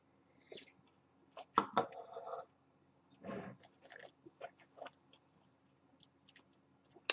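Wine swished and sloshed around the mouth as a rinse, with wet squishing and clicking bursts broken by short pauses, close and fairly quiet.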